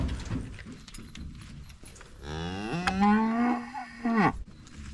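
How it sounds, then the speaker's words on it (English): A dairy cow on a Maine farm lets out a long, loud, close moo, with hoof shuffling and farmyard noise before it. "World's friendliest dairy cows right here."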